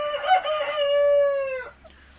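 A single rooster crows close by, a loud drawn-out call that rises and holds before breaking off, followed by quiet.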